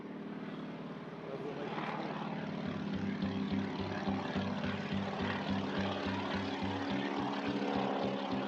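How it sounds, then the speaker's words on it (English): A propeller plane drones steadily and grows louder as it nears on a windy day outdoors, its engine hum holding a low pulsing throb beneath faint background voices. "the plane ought to be coming soon"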